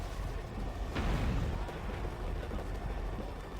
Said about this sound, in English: I can barely hear it through all the explosions.